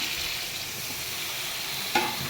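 Potatoes and pointed gourd fry in a pan with ginger and tomato, giving a soft continuous sizzle with faint stirring scrapes and one brief louder clink near the end.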